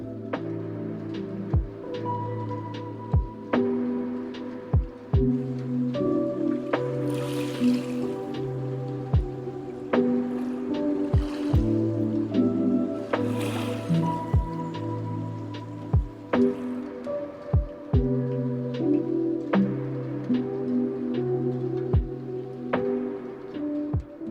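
Regular paddle strokes from a canoe or kayak on clear, shallow water off Isle Royale, each dip a sharp splash followed by dripping, repeating every couple of seconds close by.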